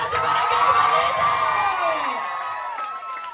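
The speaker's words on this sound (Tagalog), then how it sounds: "Pinakamalakas na palakpakan sigawan pa sa Barangay Balite!" A large outdoor crowd in Barangay Balite cheering and shouting loudly for a congresswoman's arrival, dense whoops and children's yells swelling together, close and sustained before easing off.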